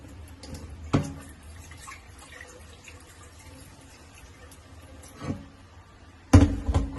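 Water runs softly and steadily from a tap while rice is rinsed, with a few sharp clatters of a pot or dish and a louder splash near the end.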